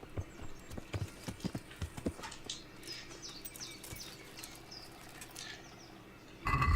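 Horse hooves clip-clopping in the medieval game Kingdom Come: Deliverance, a series of quiet uneven clops over faint birdsong, ending with a brief louder burst.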